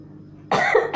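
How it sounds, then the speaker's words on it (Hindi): A sudden harsh cough bursts out close by after a quiet moment, followed by the start of another cough. "बट खांसी ज़्यादा है।"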